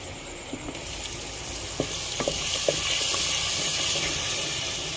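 A thick masala paste for mutton curry hisses and sizzles steadily in a hot pan on a wood-fired stove, with a few soft clicks of stirring early on; no one speaks.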